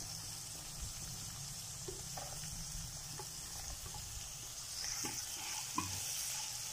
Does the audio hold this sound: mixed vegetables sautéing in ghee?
yes